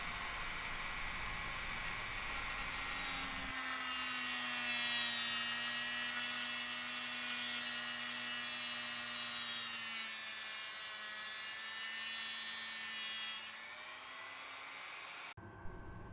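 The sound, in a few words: cutting through a multi-layer PCB board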